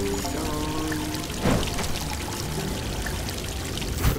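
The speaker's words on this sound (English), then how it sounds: "Slurp up some water." Water being slurped or poured in the Modern Tales: Age of Invention point-and-click adventure game, a steady liquid rush with two brief louder splashes, no talking.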